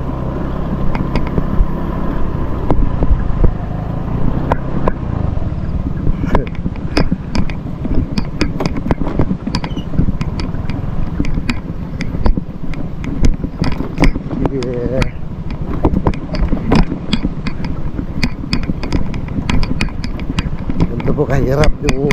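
A motorcycle engine labors steadily up a steep mountain trail along a rain-washed path, its close, continuous drone running throughout with rattles and creaks, while a person talks over it.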